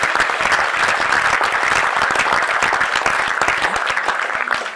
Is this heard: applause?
yes